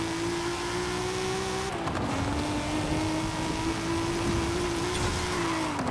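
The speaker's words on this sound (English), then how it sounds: "Come on, car. Give us the speed." A Nissan 240SX in Forza Horizon 5 roars steadily under load, its engine tone climbing, dipping briefly at a gear change, then rising again, loud and continuous with no talk.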